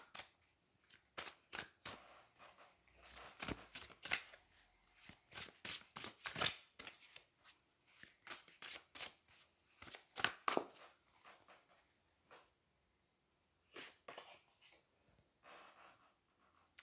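Tarot cards being shuffled and drawn from a deck, heard as quick, close, papery flicks and riffles arriving in irregular bursts, with quieter pauses between handfuls and no talking.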